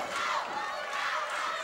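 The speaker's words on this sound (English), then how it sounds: "Listen to this crowd plead with them." Crowd at a Mid-South Wrestling tag match shouting and pleading, a dense, steady roar of many voices filling the arena throughout, loud and close.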